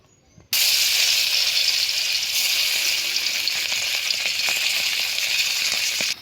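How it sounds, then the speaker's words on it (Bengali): Fish coated in turmeric and salt hits a hot pan and breaks into a loud, steady sizzle that holds for several seconds, crackling faintly now and then, after a brief quiet start. "মাছগুলা যে হলুদ দিলাম তারপর একটু লবণ দিলাম যে এই যেভাবে মাছকে বাজিয়ে নেব"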